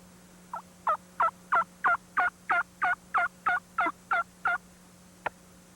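A hand-operated turkey call imitates an old hen's lost call, a run of about a dozen evenly spaced loud yelps followed by one short sharp cluck, close and alone.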